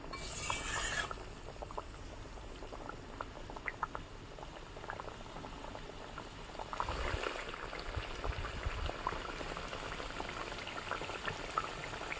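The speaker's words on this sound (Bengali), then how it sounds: "ঝোলটা ফুটে উঠেছে।" Katla fish kalia gravy boils in a pan, a continuous close bubbling with scattered pops and spits and a brief louder sizzle burst at the start, with no talking.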